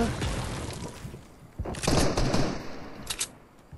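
Bursts of video game gunfire, a quick rattling volley followed by a few sharper shots, fairly faint and mixed with other game noise, with a voice talking.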